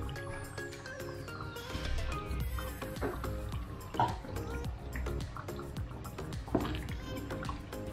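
Tamarind water poured into chilli paste frying in oil, a close liquid splash and sizzle with some dripping, steady and moderately quiet, with faint music in the background.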